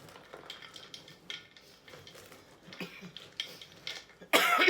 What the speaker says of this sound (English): I'm coughing because that Worcestershire sauce is strangling me.